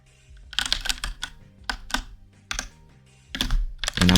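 Computer keyboard clattering as code is typed, in bursts of quick, crisp key presses separated by short pauses, loud and close with no voices.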